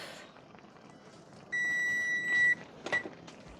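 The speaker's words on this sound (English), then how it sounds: "timer's about to turn off." A kitchen timer in a home kitchen gives one sustained electronic beep of about a second, close and clear over quiet room noise, followed by a short faint chirp.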